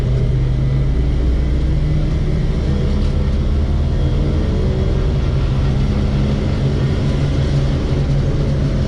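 A Suzuki Jimny with a two-stroke engine runs steadily nearby, a loud, dense low rumble with a constant droning note that holds without a break.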